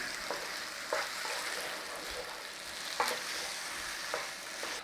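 Whole canned tomatoes with tomato juice stirred in a hot pan: a continuous soft sizzle with several light scraping strokes of a utensil at irregular intervals.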